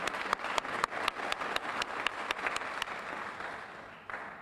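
An audience at an educators' awards ceremony applauds steadily, many hands clapping at once, the sound holding even and then thinning slightly near the end.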